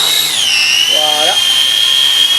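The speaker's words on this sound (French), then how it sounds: "c'est la tronçonneuse hein, qui fait le bruit" A loud, high-pitched drone from a SYMA X25 Pro GPS quadcopter's motors, its pitch dipping then holding, with a short speaking voice briefly audible underneath.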